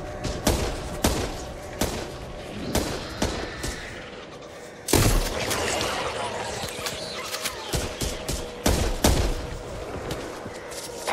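Rapid gunfire bursts and single shots ring out in the co-op zombie shooter Back 4 Blood on Nightmare difficulty, with loud cracks and thumps repeating densely over about eleven seconds and a heavier boom near the middle.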